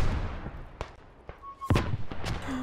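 Artillery cannons fire in the World War I shooter Beyond The Wire, several sharp distant booms and cracks spaced irregularly over a low battlefield rumble.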